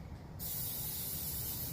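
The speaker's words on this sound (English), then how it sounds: "you can still have the quality spray" Plasti Dip coating is sprayed onto a car, starting suddenly after a brief pause and continuing as a steady, close, loud aerosol hiss.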